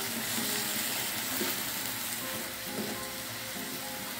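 Pak choi stir-fry sizzling steadily in a hot pan just after a splash of water goes in, a loud, continuous hiss and crackle with soft stirring scrapes, no voices.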